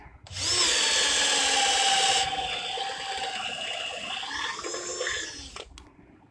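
A Milwaukee M18 BDD cordless drill boring with a 22 mm Lewis auger bit in second gear: a loud, steady high whine that holds for a couple of seconds, then drops to a lower, labouring drone until it stops.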